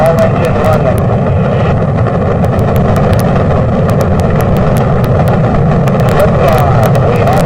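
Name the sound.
Apollo 11 rocket engines roaring at liftoff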